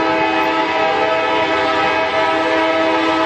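A CSX westbound mixed freight train led by locomotives CSX 558 and HLCX 7170 rumbles steadily past close by at Fostoria, Ohio, its loud continuous drone with tonal engine hum filling the whole stretch.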